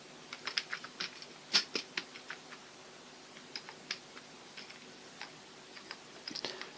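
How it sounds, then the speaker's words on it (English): Quiet keystrokes on a computer keyboard as a name is typed, irregular soft clicks with brief pauses, close and faint, no talking. "Now at this point I'm going to type the name of the bot."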